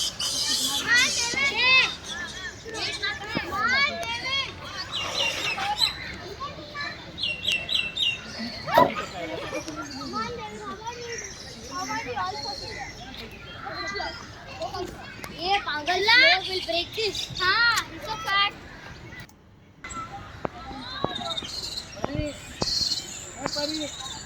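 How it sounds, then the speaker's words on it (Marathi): Children shouting and chattering at a well-maintained kids' play area in a Mumbai zoo, many young voices near and far with birds chirping and insects buzzing underneath. "एक वेल मेंटेन्ड असा किड्स प्लेइंग एरिया दिसतो"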